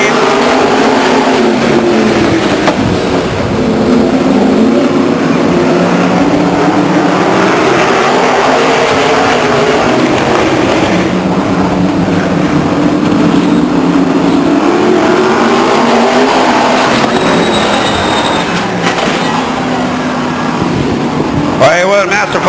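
Race cars at Stockton 99 Speedway make a continuous loud roar of engines revving and droning past on the oval, with a commentator talking over the noise throughout.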